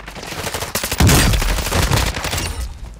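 Rapid bursts of automatic gunfire in the video game Apex Legends, a sharp, loud volley of shots arriving about a second in and rattling on continuously.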